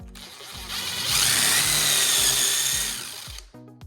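Power drill boring a hole with a 1/2 inch bit for a wall-mounted handrail, a steady loud high whine lasting about two seconds with knocking at start and end, close by and heard alone.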